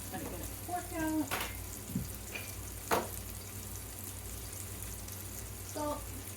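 Two eggs frying in a pan for a low-carb meal, a soft steady sizzle under background noise with a few clinks and scrapes of a fork, and a voice talking briefly.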